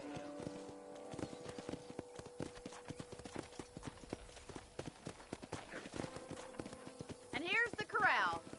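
Horses in a Red Dead Redemption ranch corral clip-clop steadily on the ground, close and rhythmic, while someone talks over them, with a couple of whinnies near the end.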